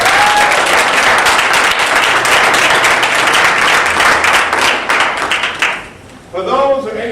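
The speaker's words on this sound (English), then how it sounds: "Let's give a little round of applause." Audience applause at a scholar-athlete awards luncheon, a steady burst of clapping from a room full of people that carries on for several seconds before fading out, with a voice starting to speak at the end.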